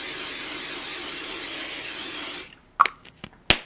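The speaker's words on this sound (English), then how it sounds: "I'm going to spray it with Pixie Spray because then hopefully that'll stay in the right spot." Pixie Spray is sprayed onto a paper card, a steady hiss lasting a couple of seconds, followed by a few sharp taps and clicks nearby, with no talk.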